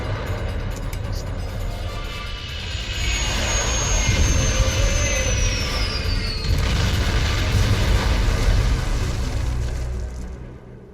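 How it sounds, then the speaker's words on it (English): A spaceship crash landing in the Star Trek Online video game: a loud, sustained roaring engine rumble with a descending whine that swells and then cuts off near the end, heard without speech. "Get us on the ground, Commander. Crash position. Brace for impact."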